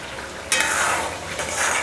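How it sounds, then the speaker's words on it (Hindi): Masala fries in hot oil in a pan for besan gatte sabji and is stirred, giving a steady close sizzle with the scrape of a spoon breaking in sharply partway through. "10 मिनट के लिए मसाला में सेकूँगी"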